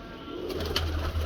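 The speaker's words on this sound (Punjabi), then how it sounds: "ਹੁਣ ਮੈਂ ਤੁਹਾਨੂੰ ਵੱਡਾ ਕਬੂਤਰ ਫਿਰੋਜ਼ਪੁਰੀ ਇੱਕ ਦਿਖਾਵਾਂ ਇੱਥੇ" Large Ferozpuri breed pigeon in a breeder's loft, giving a low cooing that holds under faint background hiss, close and moderately loud.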